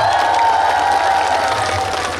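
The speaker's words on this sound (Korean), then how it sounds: "여러분 본인한테 박수 한 번씩 쳐볼까요?" A festival audience at the Jangseong Summer Festival claps for themselves at a singer's prompt, a steady, dense wash of crowd applause with a faint sustained tone underneath.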